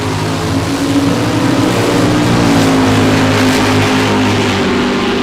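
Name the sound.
drag racing car launching down the strip at a dragway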